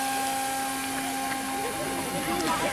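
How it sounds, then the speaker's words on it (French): A radio-controlled model boat powered by two Graupner turbines runs steadily at a boat show, a continuous whirring drone with a tonal whine holding throughout, fairly close and alone. "Donc c'est deux moteurs Graupner en fait derrière"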